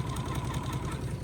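A pump draws diesel exhaust fluid from a 300-gallon tote, giving a steady, close mechanical hum with a fine rapid chatter that runs unbroken throughout.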